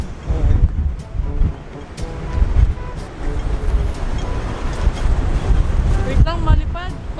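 Gusty wind buffets the microphone with low rumbling bursts near a stoplight on a street in Macau, while people talk and traffic passes nearby.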